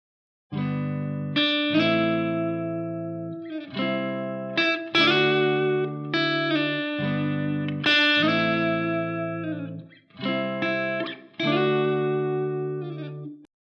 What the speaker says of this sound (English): I'm going to play a loop of that chord progression